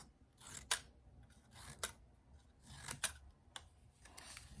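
Scissors snip red paper strip ends into fringe for a scarf on a swirly snowman craft, several crisp separate cuts in irregular rhythm, close and clear with no talking.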